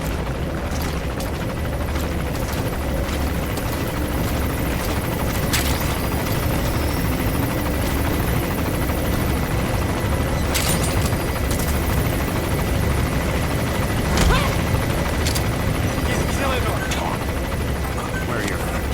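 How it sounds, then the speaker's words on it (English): An enemy gunship helicopter in Metal Gear Solid V gives a continuous heavy rotor drone with scattered sharp bangs and impacts, loud and close, while a voice talks over the game sounds. "That's an enemy gunship."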